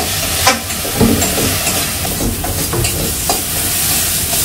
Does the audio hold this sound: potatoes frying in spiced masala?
yes